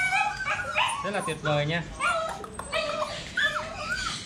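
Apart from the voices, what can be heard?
35-day-old Phu Quoc puppies whimpering and yipping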